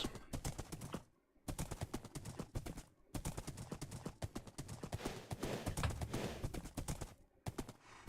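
Horse hooves clip-clop in Minecraft in a quick, steady rhythm, fairly faint, with short pauses between stretches of trotting.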